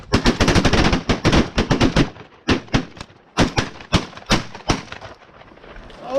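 Rapid volleys of shotgun fire during a late-season goose hunt, dozens of sharp overlapping blasts in dense bursts with short pauses between, loud and close outdoors.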